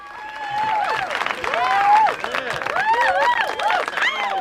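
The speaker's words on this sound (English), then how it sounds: "Let's give them a round of applause." An online live-show crowd gives a round of applause mixed with whooping, rising cheers and scattered voices, a dense, continuous burst of sound lasting several seconds.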